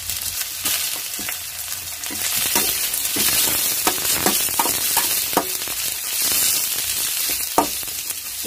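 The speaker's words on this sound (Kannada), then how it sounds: "ಈರುಳ್ಳಿ ಒಂದು ಸ್ವಲ್ಪ ಕೆಂಪುಗಾಗೋವರೆಗೂ ನಾವು ಮಾಡಿಸ್ಕೋಬೇಕು." Chopped onions fry in a pan until reddish, cooked for a fenugreek-leaf palya: a steady close sizzle with crackling spits and repeated scraping stir strokes, no voices.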